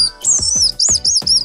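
A whistling candy blown to mimic birdsong gives a run of five bright, high chirps in quick succession over a soft low rumble, close and fairly loud with no talking.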